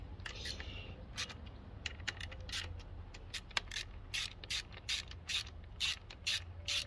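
A new screw is worked on a Suzuki DR 650 motorcycle, giving a series of quick metallic ratcheting clicks in short bursts, close and fairly quiet, speeding up toward the end with no talking.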